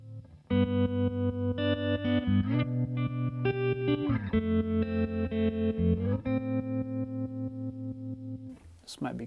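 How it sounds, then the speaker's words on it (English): An electric guitar plays sustained chords through a ramp wave tremolo pedal, its volume pulsing in a rapid sawtooth rhythm, loud and close, ending in a brief noisy burst. "It's a ramp wave tremolo."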